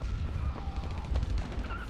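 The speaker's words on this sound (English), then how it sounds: "Oh jeez, explosions everywhere." Explosions in the zombie game Dying Light, a dense rumbling barrage of muffled booms and blasts running continuously at moderate loudness, with no clear gaps between hits.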